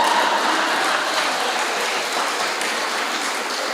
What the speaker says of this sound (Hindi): पर यहाँ तो तालियां भी बजा रहे हैं